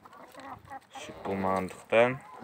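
Chickens being fed grass in a yard give a few soft clucks and short, louder calls that rise and end in a clear squawk, close by.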